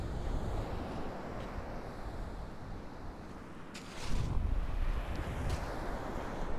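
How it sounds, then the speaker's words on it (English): A brisk breeze gusts across a choppy beach at Winchelsea, buffeting the microphone with steady rumbling wind noise. A stronger gust surges partway through, and no one speaks. "the breeze is pretty brisk"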